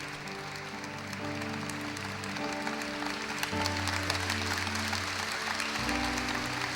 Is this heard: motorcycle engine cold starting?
no